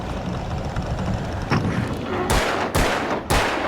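Gunfire rings out in the video game Alan Wake: a few loud, sharp shots about half a second apart near the end, over a murky ambient background.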